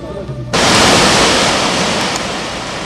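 Guryong waterfall on Mount Kumgang, 82 m tall, sends up a sudden loud, steady roar of falling water after a brief quieter moment, then holds as an unbroken rushing hiss.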